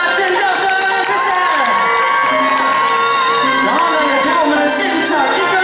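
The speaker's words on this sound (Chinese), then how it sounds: "如果好的，再给我点掌声加尖叫声，谢谢。" A large outdoor crowd at an opening ceremony in Xizhou Park, Changhua, cheers and screams loudly and continuously, with excited children's shouts and some scattered clapping.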